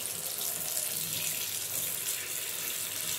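Tap water pours steadily into a container to soak dried fish, a continuous close splashing stream with no talking.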